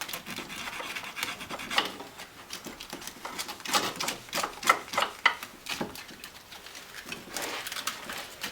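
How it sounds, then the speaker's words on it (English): Emery paper rasps against battery terminal ends on a Ford Transit 2.5 DI, a series of short scratchy scrubbing strokes in an irregular rhythm, close and fairly quiet. "With a little bit of emery paper. Just clean them up."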